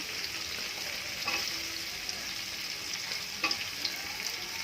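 Shallots stir-fried in ground spice paste over high heat, a soft continuous sizzle with a few sharper scrapes and clinks of the spatula stirring the pan, quiet and close.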